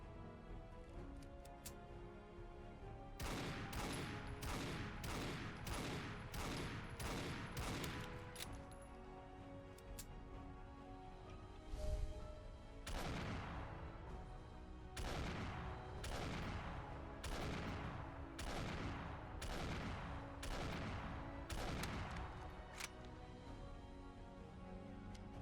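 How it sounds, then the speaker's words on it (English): Loud explosive handgun shots from a modded weapon in Fallout 4, fired in quick bursts of sharp cracks with short pauses between volleys, with one heavier boom partway through. "an explosive gunshot so loud that every time you pull the trigger"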